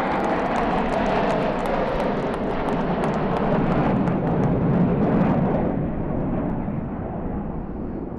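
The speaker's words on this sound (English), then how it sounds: "here comes, ladies and gentlemen, the Dragon from the East. I present to you the J10C." J-10C fighter jets in a fly-past formation at an air display, a loud broadband roar that stays steady and near for most of the pass and only begins to fade toward the end, with no talk over it.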